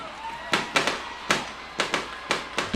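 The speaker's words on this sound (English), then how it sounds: "the fireworks fly behind the scoreboard here at Ray Rogers Stadium" Fireworks bursting behind the scoreboard at Ray Rogers Stadium during a high school homecoming football game, a rapid series of about eight sharp distant pops and bangs in an irregular rhythm.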